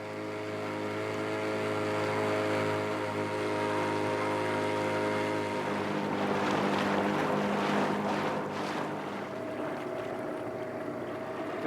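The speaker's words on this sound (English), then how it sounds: "We've made the 10-minute dinghy ride out" A small dinghy's outboard motor drones steadily and loudly throughout a ride out to sea off the Croatian Adriatic, with wind buffeting the microphone and rising water splash in the second half; no one speaks.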